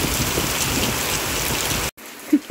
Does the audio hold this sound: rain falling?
yes